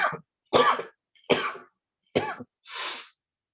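Five separate coughs, close and fairly loud, spaced about a second apart with silence between, the last one breathier.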